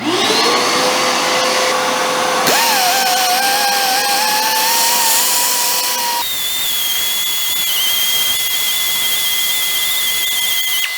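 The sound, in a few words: flap wheel grinding down steel frame mount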